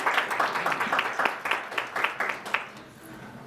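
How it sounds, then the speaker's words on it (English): Applause from a seated audience at a report launch event, an uneven ripple of individual claps that swells and fades, moderately close, tapering off toward the end. "I think we can give him another round of applause"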